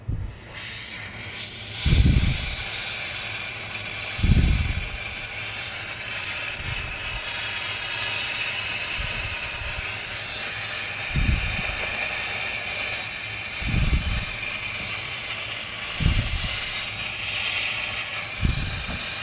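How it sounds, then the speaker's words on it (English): A jeweler's torch roaring with a steady loud hiss as it melts recycled 14kt yellow gold, the flame sound igniting and then holding constant, with periodic soft low thumps underneath. "Go ahead and start our torch."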